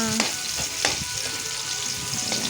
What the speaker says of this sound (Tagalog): So, gisa-gisa lang guys ang mga ingredients.